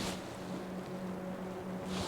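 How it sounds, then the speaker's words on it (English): A faint, steady low engine hum from a boat traveling up a river drones in the distance, unbroken and without voices. "That's a boat flying up the river."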